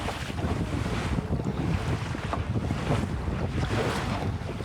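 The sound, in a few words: sailboat sailing in the wind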